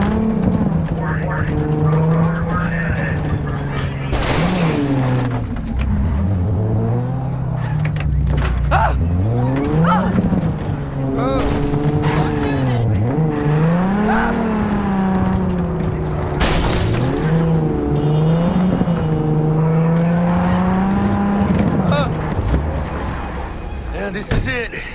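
A car in Cyberpunk 2077 on the Switch 2 roars loudly with a constantly shifting engine tone, tyres squealing and skidding through hard turns for the whole stretch, while a voice talks over it.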